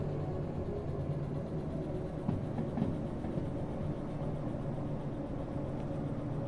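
A locomotive hauls a long train in the Derail Valley video game, a low steady rumble with a faint rhythmic rail clatter, heard from inside at moderate volume with no talk.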